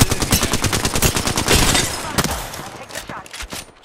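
Rapid automatic gunfire in an Apex Legends Season 18 ranked solo match, loud and close with dense bursts of shots over about four seconds, trailing off into scattered shots near the end.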